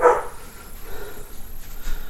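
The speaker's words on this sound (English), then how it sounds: "Excuse the slightly nutty dogs" A dog gives one short, loud bark at the start indoors, followed by quiet room noise and faint shuffling.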